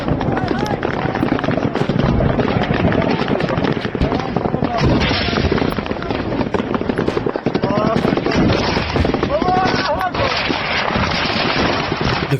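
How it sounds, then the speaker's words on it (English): Chaotic combat ambush in alleyways with sustained automatic gunfire, RPG blasts and IED explosions, loud and continuous, with a voice speaking over the rattling bursts throughout. "Automatic fire, RPGs, and IEDs tearing through the alleyways."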